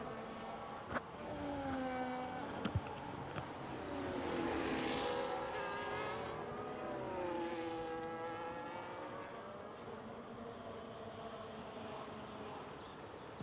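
A safety car laps the Imola circuit in a racing video game, its engine note sweeping up and down in pitch as it passes. The drone is steady, moderately loud and continuous, with no voices.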